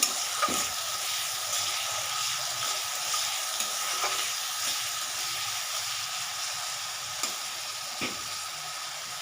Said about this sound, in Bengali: পেঁয়াজ কালো জিরে আর কাঁচা লঙ্কার সঙ্গে টমেটোকে একটু মিক্স করে নিচ্ছি